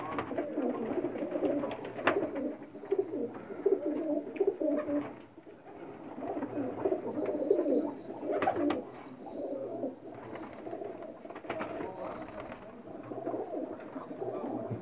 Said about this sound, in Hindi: तमाम बाजियों में उड़ने वाले कबूतर हैं जी।